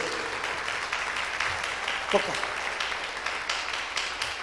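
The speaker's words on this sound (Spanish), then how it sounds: "da un fuerte aplauso al Señor" A church congregation applauding during a Spanish-language service: continuous crowd clapping at moderate volume, even and sustained, with faint voices mixed in underneath.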